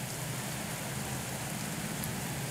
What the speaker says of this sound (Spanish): Está habiendo bastantes caídas a cuenta de la lluvia.